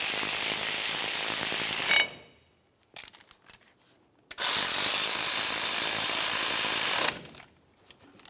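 Ratchet tightening brake caliper bolts to torque on a 2004-2015 Nissan Titan front brake job, two long bursts of rapid, close clicking separated by a few quieter metallic taps.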